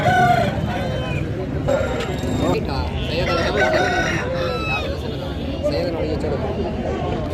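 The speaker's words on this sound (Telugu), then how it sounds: "మంచి గట్టి పుంజు అండి" An aseel rooster crows repeatedly at a busy Saturday poultry market in Mydukur, Kadapa district, its calls rising over clucking fowl and constant crowd chatter.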